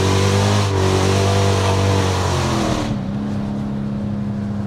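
An 800bhp Hellcat car drives past close by with a loud, revving engine roar whose pitch drops as it moves away.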